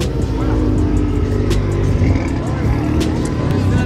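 Loud, close engine rumble from a car running continuously at a car meet in Nairobi, with a deep throaty exhaust tone throughout.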